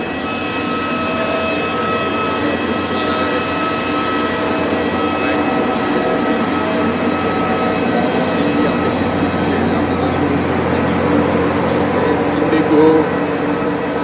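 Airplane engines idle on the apron at Surat airport, a loud, steady roaring drone with a faint whine that holds level throughout, while voices murmur in the background.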